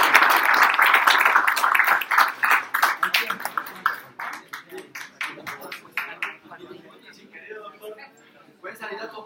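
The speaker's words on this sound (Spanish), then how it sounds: "Un aplauso muy especial para" An audience claps for a speaker at a talk, a dense burst of applause that gradually thins into scattered claps while a voice carries on over it.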